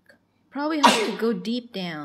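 A sneeze bursts out once, close and loud, in the middle of a mother's and child's chatter. Speech runs before and after it.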